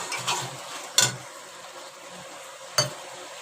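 A curry is stirred and sautéed in a pan, giving a low sizzle with two sharp clinks of a utensil against the pan.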